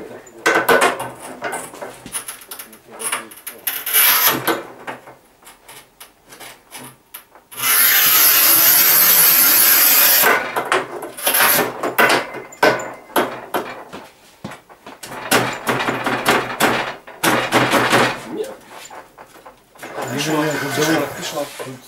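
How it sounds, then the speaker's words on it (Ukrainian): A Rubi manual tile cutter scores and snaps thick 12 mm porcelain stoneware tile, with rasping scrapes, knocks and one long loud grinding stretch. People talk between the bursts of cutting. "Ми спробуємо спочатку я, як без досвіду, а потім Саша спробує такий керамограніт різати."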